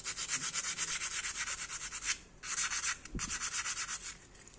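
Hand sanding with fine P320 abrasive paper, a steady run of close, rhythmic rasping back-and-forth strokes with a couple of brief pauses.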